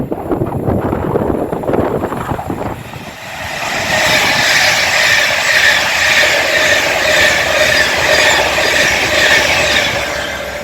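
An Avanti West Coast Class 390 Pendolino runs from London Euston to Edinburgh and passes through Rugby station. A loud, rushing roar of wheels and air swells in after a brief dip and holds steady, close by, with no voices.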